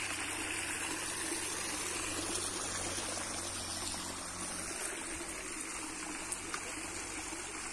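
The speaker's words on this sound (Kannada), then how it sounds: "ನೋಡಿ, ಇಲ್ಲೆಲ್ಲ ನೀರು ಹರಿತಿದೆ." Water flows in a continuous, even rush along a stream at the Ranganatha Swamy hill temple in Niralla near Hassan, steady and moderately distant, with no voices.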